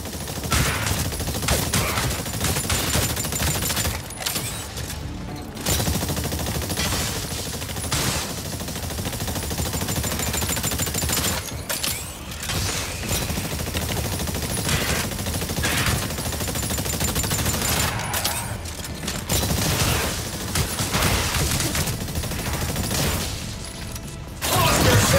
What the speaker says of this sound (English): Fire Deadeye's cluster salvo through the wall and eliminate the raptors.